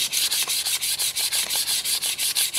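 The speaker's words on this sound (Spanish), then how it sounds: "voy a lijar todo el chasis a 600 con mucho cuidado" A Kawasaki ZZR 1100 motorcycle chassis is hand sanded with 600-grit sandpaper, giving quick, even back-and-forth rubbing strokes, close and loud with no talking.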